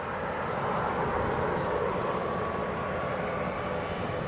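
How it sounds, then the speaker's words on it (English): A small Cessna propeller aircraft landing at Leeds Bradford Airport, heard as a steady, unbroken engine drone and rumble at a moderate distance, holding an even level throughout. "We did have a prop landing, but I can't see it anymore. Was it the little Cessna?"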